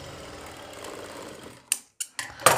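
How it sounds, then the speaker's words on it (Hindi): A sewing machine stitches joined fabric strips for an umbrella-style flared skirt panel: a faint, steady mechanical run, then a few short, sharp clicks and bursts as it stops and starts. "इस पर हमें सिलाई लगानी है"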